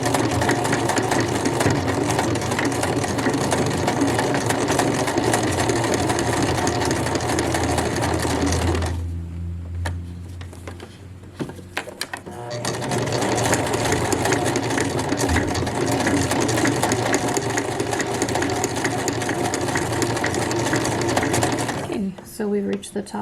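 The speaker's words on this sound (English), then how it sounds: "since my machine's going through it just fine, I'm going to go ahead and finish this section too" A sewing machine runs steadily, stitching through a pants waistband with a continuous mechanical whir, pauses briefly about midway with some handling clicks, then resumes stitching at the same pace.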